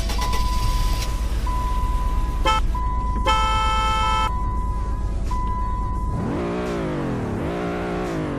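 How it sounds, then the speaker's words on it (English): A Plymouth Voyager in the Roblox Greenville driving game, a steady engine drone under a thin tone, broken by short horn honks and one longer blast of about a second, then the engine revs up twice in rising sweeps. "Here's how the Voyager sounds."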